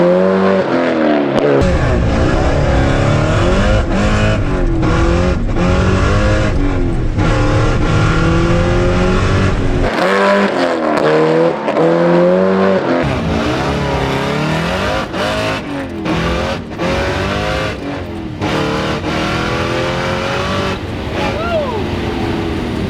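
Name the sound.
Hellcat-swapped Dodge Viper accelerating down an eighth-mile drag strip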